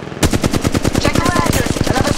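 Rapid automatic gunfire in the mobile shooter Apex Legends Mobile, a loud, steady stream of evenly spaced shots running continuously for about two seconds after a brief quiet start.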